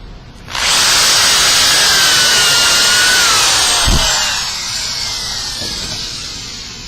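A power drill bores holes into a wood piece for a joint, with a loud, steady whirring grind that starts after half a second, runs continuously, dips slightly near the end and has a brief low thump partway through.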